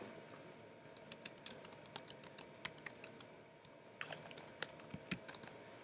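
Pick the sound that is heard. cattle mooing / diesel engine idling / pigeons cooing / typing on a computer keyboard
typing on a computer keyboard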